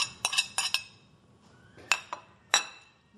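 Utensil stirring oregano, chopped dill and chopped shallots in a bowl for an Italian salmon dish, giving sharp clinks and taps against the bowl in a quick cluster, then a pause and a few more close, bright knocks.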